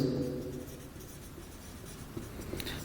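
Pen or pencil writing numbers on paper during a sixth-grade maths lesson on ratio and proportion: soft, steady scratching strokes up close, faint and continuous with no speech.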